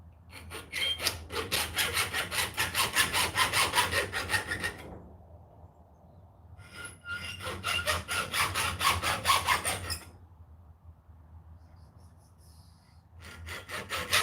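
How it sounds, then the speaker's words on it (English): Hacksaw cutting through a metal part on a workbench, heard as two long bursts of steady rhythmic back-and-forth rasping strokes separated by a quiet pause, close and fairly loud with no talking. "I will cut this out with my hacksaw"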